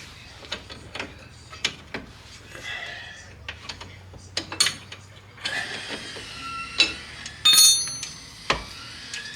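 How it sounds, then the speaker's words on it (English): A wrench ratchets and clicks while tightening a bolt on a Nissan Altima, a run of sharp metallic clinks and pawl ticks close by, with faint low hum beneath. "grab the wrench, get this bottom one done"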